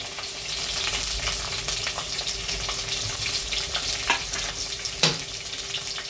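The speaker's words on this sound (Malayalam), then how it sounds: "വെളുത്തുള്ളി ഇട്ട് 10 നിമിഷം ഇളക്കി കൊടുക്കാം. നല്ലപോലെ ഒന്ന് ബ്രൗൺ കളർ ആവുന്നിടം വരെ നമുക്കൊന്ന് ഇളക്കി കൊടുക്കാം." Chopped ginger and garlic sizzle steadily in hot oil in a pan for fish curry, with scraping stirs and a couple of sharper clinks of the spoon against the pan, close and continuous without talk.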